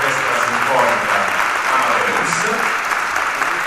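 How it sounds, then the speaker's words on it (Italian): A concert audience applauds the choir of an orchestra at an Epiphany concert in a theatre, a dense, steady wash of many hands clapping throughout, with faint voices mixed in. "vorrei che facesse un grande applauso al coro dell'Orchestra"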